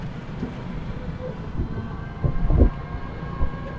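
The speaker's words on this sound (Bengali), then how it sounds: "এটা হচ্ছে রেলওয়ে স্টেশন" A train rumbles at Rajshahi railway station, a continuous low rolling roar with a few heavier clunks near the end, moderately close and with no voices over it.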